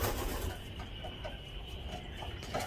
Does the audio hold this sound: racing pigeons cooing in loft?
yes